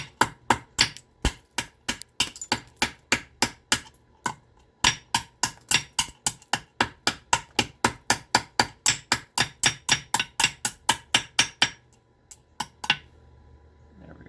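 Flint gunflint blades are knapped with a hammer in English-style blade work, giving a fast run of sharp, close clicking strikes, dozens in steady rhythm with a brief pause, then a few final isolated taps.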